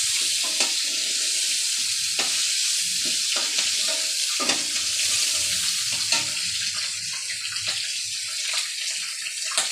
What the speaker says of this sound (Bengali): আমি চিংড়ি মাছটা নাড়তেছি, লাল লাল হয়ে গেছে।